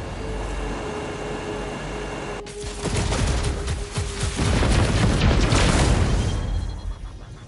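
A turret fires in the space-combat video game Chorus. A steady hum gives way to a sustained, rumbling barrage of rapid blasts and booms that swells and then eases off toward the end.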